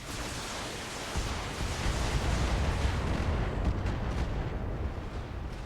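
Artillery fire in the video game BattleTech comes as a sustained, loud rumbling barrage of heavy blasts that fills the scene with dense, roaring noise.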